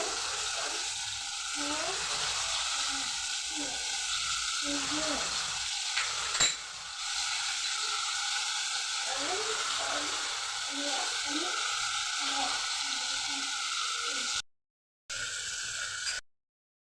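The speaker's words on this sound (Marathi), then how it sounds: "आपण तेल घालून घेऊ पण सोयाबीनचे तुकडे त्याच्यात घालून घ्यायचे" Soybean chunks and paneer fry in oil with a steady sizzle and occasional stirring and utensil clinks, while a voice talks over the cooking.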